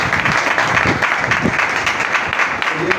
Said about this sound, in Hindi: बहन के लिए भी जोरदार तालियां